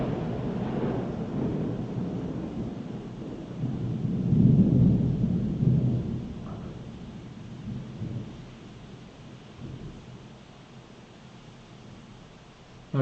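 A rainstorm with rolling thunder plays out during an online lecture, a low rumbling swell building and fading over steady hissing rain, with no voices heard.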